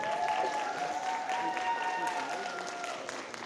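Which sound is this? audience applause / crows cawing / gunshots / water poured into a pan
audience applause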